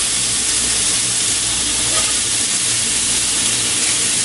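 Lemon slices sizzling in a preheated skillet for a trout dish, a steady, loud, broadband hiss that holds evenly throughout with no voices.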